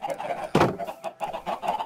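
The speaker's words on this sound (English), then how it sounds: "All right, come on, chickens." Chickens in Minecraft cluck in short, repeated bursts, fairly close, with a louder thump partway through.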